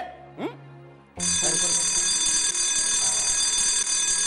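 A school fire alarm bell starts abruptly and rings continuously, loud and steady, after a brief moment of quieter sound, with faint voices beneath it.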